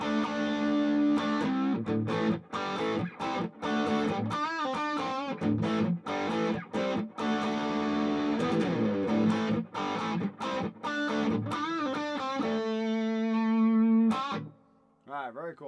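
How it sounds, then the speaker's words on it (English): Electric guitar played through a small practice amplifier with an overdrive pedal, producing loud distorted chords and sustained notes that ring out continuously, ending in a few fading single notes. "let's kick it over to the overdrive sound"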